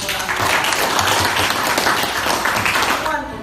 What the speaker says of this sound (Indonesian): kita tepuk tangan buat Nur Alifah.